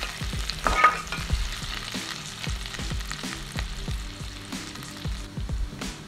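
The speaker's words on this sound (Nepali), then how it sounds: "अब चाहिँ यहाँ प्याज र खुर्सानीलाई राखेर अनि म फ्राई गर्दैछु" Chopped onion and green chili fry in a pan for an egg curry, a steady close sizzle broken by repeated sharp scrapes and clacks of a spatula stirring, with no talk.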